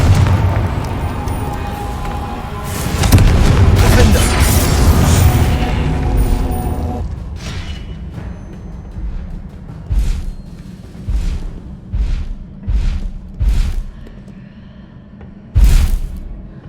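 A Confringo fire spell from the video game Hogwarts Legacy detonates with a loud booming blast, followed by several shorter sharp bursts in a row and one more strong bang near the end.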